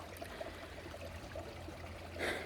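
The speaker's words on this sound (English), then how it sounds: "And look, there's running water right here." A small stream of running water trickles and babbles steadily, soft and fairly close, with no voices over it.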